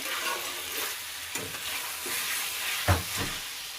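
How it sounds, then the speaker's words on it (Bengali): Red chicken curry gravy slowly stirred and fried in a pot, a soft continuous sizzle broken by a few spoon scrapes, the last one louder, with no voices. "এভাবেই আমি আস্তে আস্তে করে কষিয়ে নেব"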